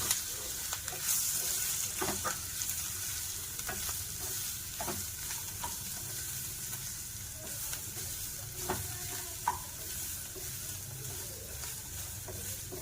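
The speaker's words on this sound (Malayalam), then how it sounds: "ഇത്രയും കൂടി ഇട്ട് ഒന്ന് ഇളക്കി നമുക്ക് ഇങ്ങെടുക്കണം." Grated coconut being stirred in a hot pan makes a steady, soft scraping and rustling with a faint sizzle, punctuated by occasional sharper taps of the spoon against the pan.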